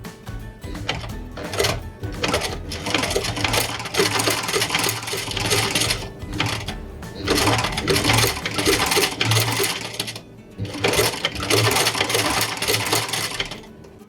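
An embroidery sewing machine runs in fast, steady bursts doing zigzag stitching, its rapid needle clatter loud and close, stopping briefly between runs.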